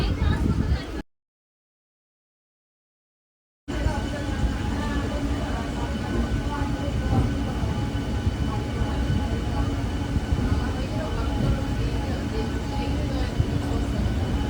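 A train arrives at a crowded station at night, rumbling steadily nearby beneath crowd murmur, after a brief cut to silence near the start.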